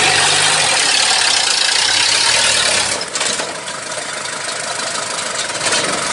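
A large truck used for hauling palm oil fruit idles steadily at close range on a damaged rural road, a continuous loud broadband rumble that dips briefly midway, then carries on with no talking over it.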